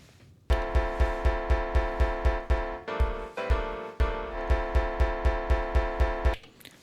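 Elektron Octatrack sampler plays a sliced resample remix: a steady loop of sharp, evenly spaced electronic hits over sustained tonal harmonics, with a brief shift in texture midway, loud and alone.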